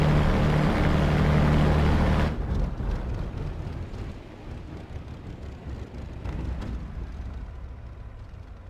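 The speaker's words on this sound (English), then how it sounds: "Set the fuel mixture to idle cutoff to shut down the engine" A P-51D Mustang piston engine in the DCS World flight simulator is shut down with the mixture at idle cutoff: a loud, steady roar cuts off abruptly, leaving a lower, rumbling wind-down with faint rattles that fades but carries on.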